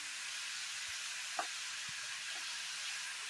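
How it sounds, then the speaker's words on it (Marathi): Onions cooking in a pan with turmeric, tomato and coriander give off a faint, steady sizzle, broken by a couple of soft clicks. "छान आपला आता कांदा परतवला गेलाय"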